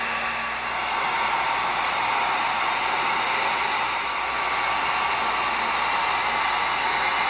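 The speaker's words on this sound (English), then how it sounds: "Gonna get out our heat gun." Heat gun blowing hot air onto EVA foam, a constant close hiss and fan whir holding steady throughout with no voices.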